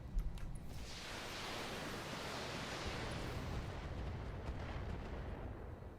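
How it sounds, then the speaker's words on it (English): Distant artillery bombardment in a mech combat video game, a low continuous roar of rumbling impacts that swells and holds steadily for several seconds, with a few sharper thumps at the start. "We are just going to bombard him"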